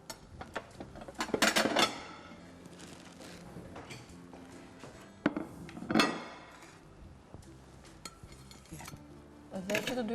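Potato and spinach strudel with a crisp olive-oil pastry is lifted out onto a plate, giving several close clattering knocks and scrapes of utensils and dishware in bursts, with quiet gaps between them.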